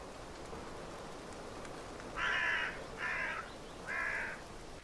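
Crows caw in The Last Door, an eerie point-and-click horror game, with three loud, harsh calls spaced about a second apart over a steady hiss of ambience.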